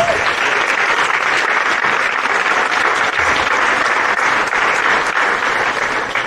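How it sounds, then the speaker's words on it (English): A banquet crowd at a college athletics senior awards dinner applauds loudly and steadily, a dense, even wash of many hands clapping without a break. "Let's give them a round of applause"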